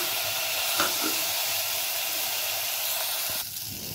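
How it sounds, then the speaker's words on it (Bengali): Rice frying in a pan with turmeric and salt, giving a steady, dense sizzle and hiss that runs throughout without pause, close and even in level, with no talk. "চালটাকে এইভাবে ভাজবেন"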